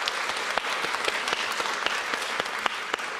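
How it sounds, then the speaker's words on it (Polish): An audience at a lecture on Polish left-wing movements claps steadily for sign language interpreters, a dense, even patter of many hands heard from within the hall. "Poproszę o brawa dla naszych tłumaczek."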